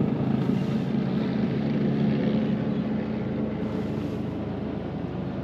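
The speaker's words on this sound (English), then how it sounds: "There definitely is a helicopter, medevac helicopter flying overhead." A medevac helicopter passes overhead above a car driving through St. Paul, a loud, steady rotor and engine roar that fills the cabin and eases off slightly toward the end.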